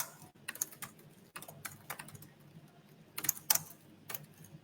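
Irregular sharp clicks of fingers typing a command on a computer keyboard at a Linux terminal, with a few louder keystrokes near the end and no talking.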